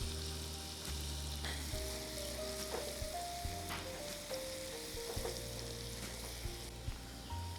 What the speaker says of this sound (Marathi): तो आपण ह्यामध्ये घालूया तेलात आणि ह्याला आपण हलकासा परतून घेणार आहोत.